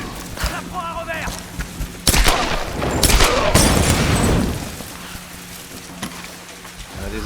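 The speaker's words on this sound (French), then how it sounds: "j'ai préféré y aller au fusil" Gunfire from a rifle in the Tomb Raider video game, with sharp broadband blasts and a dense burst of shots mid-clip, loud and close, mixed with game sound effects and some voice.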